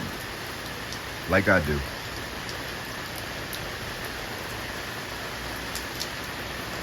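Rain pours steadily in a continuous broadband hiss, interrupted once by a brief spoken phrase partway through before the even downpour carries on alone.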